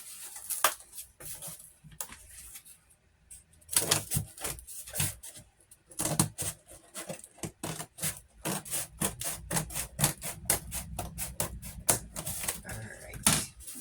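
Small wood pieces being cut for a DIY fairy house in a tree, a rapid series of sharp, rhythmic rasping strokes in bursts with short pauses, close and loud, no talk.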